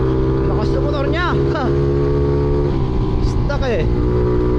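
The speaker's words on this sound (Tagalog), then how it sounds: "Lakas ng motor niya." A loud motorcycle engine revs hard and drones steadily near at hand, with a small sprocket fitted and a rider commenting over it.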